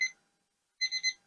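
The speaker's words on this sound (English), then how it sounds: "the timer's getting ready to go off" Kitchen timer going off during baking of Mexican wedding cakes: a short electronic ringing burst, a pause, then a rapid triple trill, close and clear with no talk.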